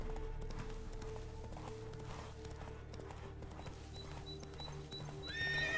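Neighing and clip-clopping hooves of the horse Roach in The Witcher 3 game, a steady trot under game ambience with a louder whinny near the end.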